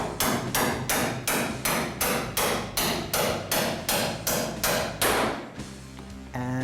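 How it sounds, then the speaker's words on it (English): Hammer striking a drift to drive a pin into a Lotus car's suspension eyelet, about a dozen loud, evenly spaced metallic blows close by, followed by a few quieter knocks. "I'll drift that pin in."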